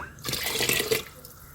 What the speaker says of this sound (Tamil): குழம்பு ரொம்ப திக்காக இருக்குது கொஞ்சம் தண்ணி ஊற்றிக்கலாம்